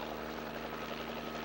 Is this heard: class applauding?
no